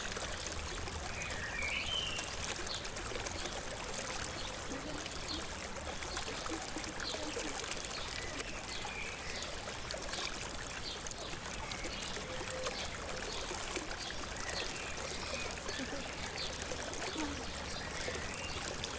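Water streams steadily into a homemade swimming pool built from PVC pipes, a constant broadband splashing and trickling wash that stays even and fairly loud throughout, with no voices.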